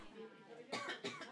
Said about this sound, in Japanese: 咳が止まんないぐらいですね